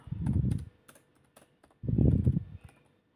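Typing on a computer keyboard while entering an Excel formula: two close clusters of quick, soft key clacks separated by a quiet gap with a few isolated taps.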